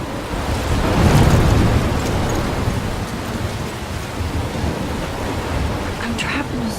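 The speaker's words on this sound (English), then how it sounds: "I'm trapped in a storm?" A storm rages in the game Life Is Strange, a loud, steady roar of wind and rain with a heavier rumbling swell early on, continuous and unbroken throughout.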